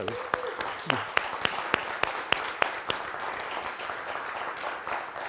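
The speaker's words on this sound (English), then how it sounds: "can we give them another round of applause?" Audience applause at a Pride event in Edina, steady clapping from a room of people that starts after a brief voice and fades gradually over several seconds.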